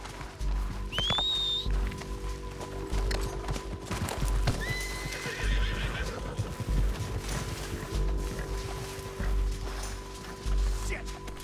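Horses in Red Dead Redemption 2 give two shrill whinnies over steady rhythmic hoofbeats, with a low engine-like hum underneath and no speech.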